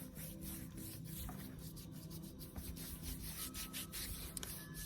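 Hands rubbing a bare foot during a self massage, a soft continuous close-up friction swishing under a steady low background hum.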